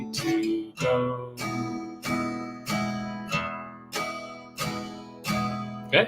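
An acoustic guitar strums chords close up in a steady rhythm, with each strum ringing out before the next, about eight strums in total.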